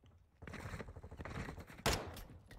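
Fast, rattling submachine gun fire in a console video game, a steady run of rapid shots with a sharper, louder burst near the end, heard close and alone without talk.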